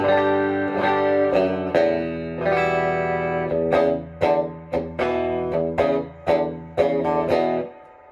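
A Tom Anderson S ICON electric guitar with its pickup coil-tapped plays chords and single notes with a thin, bright, slightly nasal tone, ringing sustained at first and then in choppy, separated strums.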